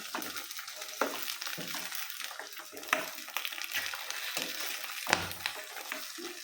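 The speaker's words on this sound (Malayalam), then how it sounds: "എണ്ണയിൽ കിടന്നിട്ട് ഒന്ന് നല്ല പോലെ ഒന്ന് റോസ്റ്റായിട്ട് വരണം" Whole green chillies roast in hot oil for pickle, giving a soft steady sizzle with occasional sharp pops and spatters, fairly faint and close.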